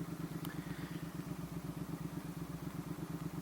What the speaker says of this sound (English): Don't know if you're catching the popping on the overrun, but it is nigh on incredible.